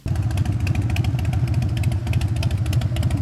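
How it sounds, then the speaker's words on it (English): A parallel-twin motorcycle engine runs close by with a fast, even, thumping beat and a rough mechanical clatter on top, holding a fairly constant speed throughout. "the parallel twin is statistically the most rational engine ever made"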